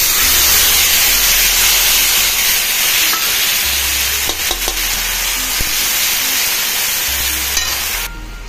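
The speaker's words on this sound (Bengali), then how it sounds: "এই তেলটার উপরে দিয়ে দিচ্ছি এখন জিরা আর তেজপাতা আর" Cumin, bay leaf and garam masala paste hit hot oil and fry with a loud, continuous hissing sizzle, punctuated by a few small crackles, then the noise drops off abruptly near the end.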